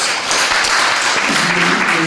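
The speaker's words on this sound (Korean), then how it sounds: "박수 한번 하겠습니다." A church congregation applauds together, a steady broadband clapping that fills the clip at close range, with voices murmuring underneath.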